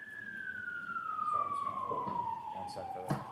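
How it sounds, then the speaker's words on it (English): An emergency vehicle siren wails at moderate distance, one long falling tone sweeping downward over several seconds, with a faint voice and a brief knock near the end. "One sec for the siren."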